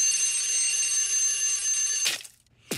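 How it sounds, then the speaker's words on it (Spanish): An alarm clock rings with a steady, dense electronic tone for about two seconds, then breaks into short bursts with a brief gap before a final burst, loud and close with no talking. "Suena el despertador, me levanto temprano."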